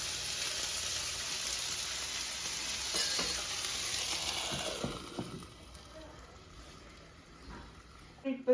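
Sabudana vada shallow-frying in oil on a pan, a steady close sizzle that fades over the second half with a few small clicks and a knock at the end.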